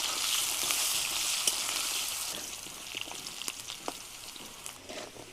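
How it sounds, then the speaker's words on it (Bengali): Two potatoes fry in oil with a soft, low-level sizzle, seasoned with turmeric and a little salt. Faint pops and spatters come and go against the quiet hiss. "এখন আমি ভেজে নেব।"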